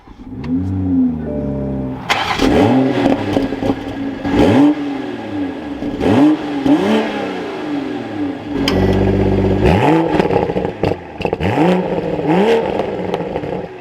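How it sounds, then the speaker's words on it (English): A 2023 Toyota GR Supra 3.0 engine cranks and catches, then revs hard several times in a row, loud and close, with a brief steady idle between bursts. "let's fire up this Supra"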